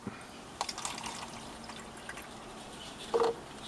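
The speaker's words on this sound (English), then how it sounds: "add our water" A brief, quiet pour of water into a plant pot, with faint splashing and a short louder gurgle near the end.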